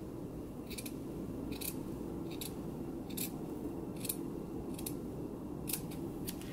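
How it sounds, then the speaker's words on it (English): Scissors snip repeatedly through fabric, slashing into the darts of an unlined jacket, about eight or nine crisp cuts spaced evenly over a low, steady background hum. "just grab some scissors and just slash down as far as you can go with your dart"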